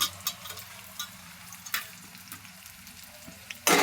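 Onion and a piece of ginger frying in oil, a soft steady sizzle marked by a few light clicks of a spoon against the pan, then a sudden louder hiss at the very end.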